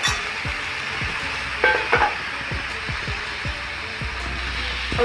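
Spinach greens with potato and eggplant tossed into a hot pan and stirred, a steady sizzle running throughout with repeated scraping strokes and a brief clatter of utensils partway through.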